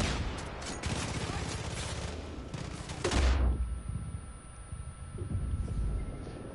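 A flaming shotgun fires in Far Cry 5, giving a dense, loud roar of blasts and crackle for about three seconds, then a deep boom that fades into quieter game ambience.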